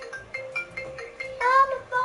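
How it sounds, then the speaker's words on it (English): A mobile phone rings in a repeating pattern of short bright tones, each pulse followed by a pause, then a louder, fuller burst of the ringtone near the end. "Oh, my phone!"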